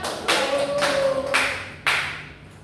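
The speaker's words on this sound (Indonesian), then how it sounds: "Iya, tepuk tangan." Schoolchildren in an elementary science class clap together in a patterned rhythm, four distinct bursts with pauses between them, fairly close and with no one talking over them.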